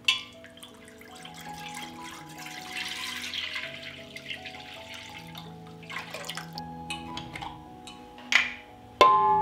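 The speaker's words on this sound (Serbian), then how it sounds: "sada ću ga sipati u jednu dublju šerpu" Three litres of fresh farm milk poured into a deep pot, a continuous gurgling liquid stream lasting several seconds, with a few clinks and a louder knock at the end.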